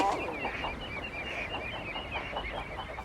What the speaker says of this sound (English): Oh, it's masses of eider on that beach.